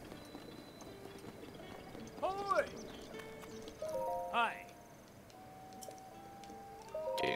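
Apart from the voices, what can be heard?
horse hooves galloping in The Legend of Zelda: Breath of the Wild video game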